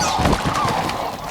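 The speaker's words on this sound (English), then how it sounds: "A flock of sandhill cranes lingers." A flock of sandhill cranes calls in the open heartland as winter closes in, a continuous dense chorus of overlapping honking, bugling cries that stays fairly loud throughout.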